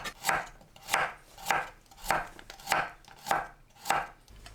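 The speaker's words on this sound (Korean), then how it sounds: "줄기는 겉에 질긴 껍질을 제거하고 얇게 썰어줍니다." A knife thinly slices peeled broccoli stems on a cutting board in about eight evenly spaced, crisp chops, close and alone with no talk.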